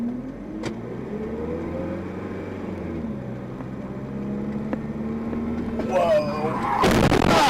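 On a dashcam at a red-light intersection, engine hum runs under road noise before a sudden loud crash bursts near the end, with a voice exclaiming around the impact.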